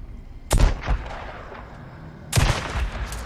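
Two loud gunshot blasts from a weapon in the zombie survival game Days Gone, one at roughly half a second in and another about two seconds later, each ringing briefly against quiet game ambience.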